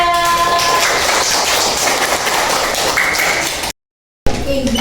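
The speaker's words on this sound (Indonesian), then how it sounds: "Beri tepuk tangan yang meriah untuk kelompok 3." Applause for a student group at the end of their presentation, a dense wash of clapping filling the room for several seconds, cutting out briefly before resuming with other room sounds.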